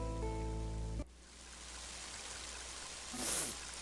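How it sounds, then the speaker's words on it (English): Heavy rain in the video game Mother 3, a steady broadband hiss that starts abruptly after a short musical passage and continues evenly, with a brief brighter swell near the end. "Mighty heavy rain, isn't it?"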